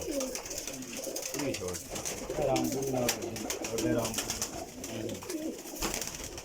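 Pigeons in a high-flying breeding setup of paired birds cooing repeatedly, several soft overlapping calls close by, with someone talking over them.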